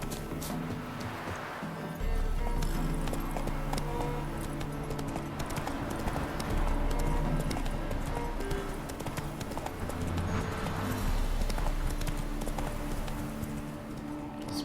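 Roach, the horse in The Witcher 3: Wild Hunt, gallops in a quick repeating hoofbeat rhythm, moderately loud and steady, over game background sound with no speech.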